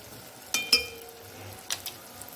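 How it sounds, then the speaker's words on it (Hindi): Spices for dal chana masala, including whole cumin and coriander powder, are stirred in a hot pan, with a few sharp metallic clinks of a spoon over a soft, faint sizzle. "तो अब हम इसको अच्छे से मिक्स कर लेंगे, ताकि ये भी अच्छे से भुन जाए।"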